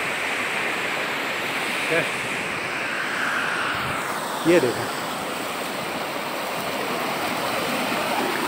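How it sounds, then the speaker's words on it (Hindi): A spring-fed waterfall on a mountain trek near Rakaposhi Base Camp, Gulmat, makes a steady broadband rush of falling water that runs unbroken throughout, with someone speaking briefly over it. "तो ये जो वाटरफॉल है ये उसी चश्मे से आ रहा है।"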